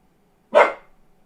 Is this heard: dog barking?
yes